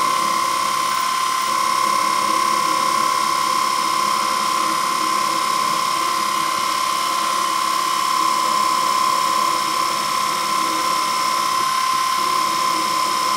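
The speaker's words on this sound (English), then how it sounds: "Using our little mill again, but using it as a drill." A small milling machine used as a drill whines steadily at a high pitch as it drills into metal, a constant mechanical hum with no talking.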